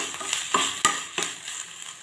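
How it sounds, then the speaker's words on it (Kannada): Dry fish stirred in a hot pan for chutney gives a few sharp scraping clinks of a spoon against the pan over a soft sizzle, close and brief. "ಇದು ಚೆನ್ನಾಗಿ ಫ್ರೈ ಆಗಬೇಕು"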